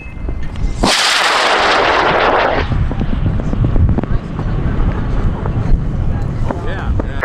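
A high power rocket on a J270 motor launches at Airfest 29 in Argonia, Kansas, with a sudden loud roaring hiss that lasts under two seconds and then fades into a rumbling, windy outdoor background as people talk nearby.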